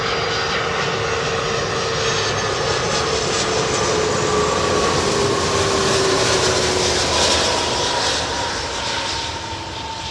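Jet airliner engines roar steadily on a runway at Miami, a loud, continuous rushing drone with a faint rising whine, close and sustained throughout without any voices.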